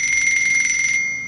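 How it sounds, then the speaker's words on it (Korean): An old-style telephone in the horror game Escher's House rings with a bright, bell-like electronic trill that sounds once for about a second, then fades. "전화다."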